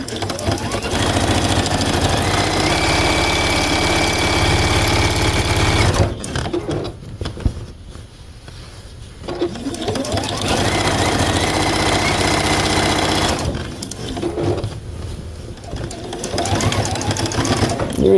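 Sewing machine stitching binding along the final edge of a quilt, running in two long, steady, rattling bursts separated by short pauses.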